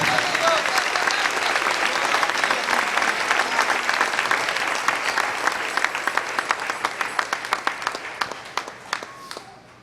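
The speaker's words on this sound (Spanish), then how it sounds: "Denle un aplauso al Rey en esta hermosa mañana." A church congregation applauds during a morning service, a full crowd of clapping that gradually thins into scattered individual claps as it fades out.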